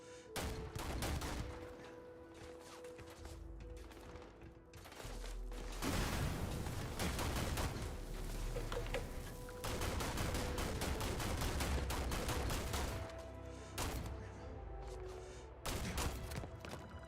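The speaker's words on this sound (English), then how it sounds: "It is nice that I have enough ammo to just do a little bit of suppressive fire." Sustained suppressive gunfire in Starfield, long rattling volleys that come and go in waves, with short pauses between stretches of loud continuous shooting and a low game hum beneath.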